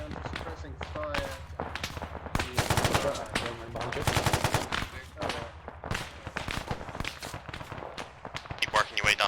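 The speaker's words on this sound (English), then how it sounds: "just getting down to suppressing fire" Rapid bursts of automatic gunfire crackle through an ArmA 3 firefight as a squad lays down suppressing fire, the rattling volleys loud and near, mixed with scattered single shots and occasional voices over the radio.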